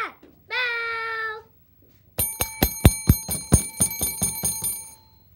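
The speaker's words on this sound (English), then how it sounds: "Ring that bell!" A bell rings repeatedly in a fast, bright run of strikes to mark birthdays during a school news broadcast, following a short sustained tone; no talk over it.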